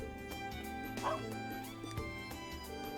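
A puppy in the game Trails of Cold Steel III gives a few short, soft yips and barks over steady background music.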